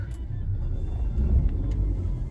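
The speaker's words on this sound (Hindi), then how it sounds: "थोड़ी देर स्टार्ट करके छोड़िए गाड़ी, उबल रही है।" A car that has sat unused for many days idles after being started, a steady low engine rumble close by with faint whirring and no talk over it.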